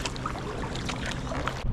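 Paddle strokes from a Stellar S-14 three-piece kayak sweep through river water near the Sundial Bridge, close watery swishes and drips over a steady splashy wash, ending with a brief quieter moment.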